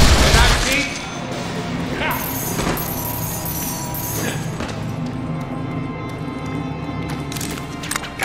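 Rapid gunfire from the Deadpool video game rattles in bursts and single cracks over busy game effects, with a heavy crash at the start and shots continuing throughout.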